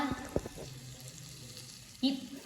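Tempering poured over vegetable pieces in a pan gives a sudden sizzle and clatter, fading, then a second burst of hissing near the end, with faint talk around it.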